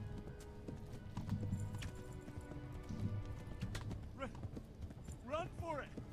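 Horse hooves clip-clopping at a gallop in the video game Kingdom Come: Deliverance, a quiet rhythmic patter under low game ambience, with faint whinny-like calls near the end.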